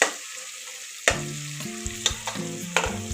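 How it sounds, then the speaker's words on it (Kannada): Onions fry in oil in a pan for chicken sambar, a soft constant sizzle with a few sharp stirring scrapes, under a melodic instrumental backing. "ಈರುಳ್ಳಿ ಎಲ್ಲ ಚೆನ್ನಾಗಿ ಬೆಂದಿದೆ."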